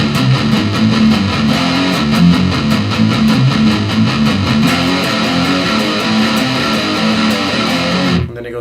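Electric guitar playing a riff with palm muting, a dense, driving stream of chugging notes that runs loud and steady for about eight seconds before cutting off, with no talking.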